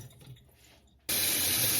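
Tap water rinsing a part of a Breville Juice Fountain Elite juicer at a kitchen sink, bursting on suddenly after a quiet moment as a loud, close, steady hiss of running water.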